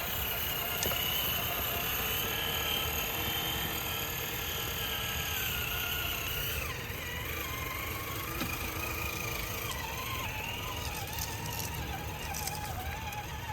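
A Traxxas TRX-4 RC truck driving along, its electric motor giving a continuous whirring drone with slight pitch shifts as it moves, steady and fairly close with no talk.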